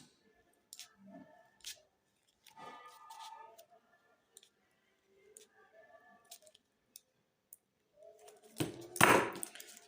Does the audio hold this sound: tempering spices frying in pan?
no